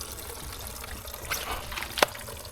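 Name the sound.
water flushing through spa gate valve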